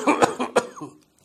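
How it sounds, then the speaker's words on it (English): A person demonstrates an asthma-type cough from the medium-sized airways after a deep breath: three sharp, strong bursts in quick succession, close and loud, trailing off into silence. "The patient takes a relatively deep breath and gives two or three bouts of strong cough"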